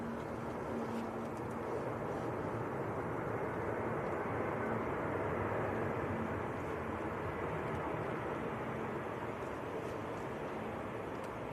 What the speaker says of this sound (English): So another EasyJet on finals.